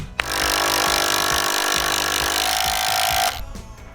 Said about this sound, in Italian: Oh, trapano, su, attiviamoci.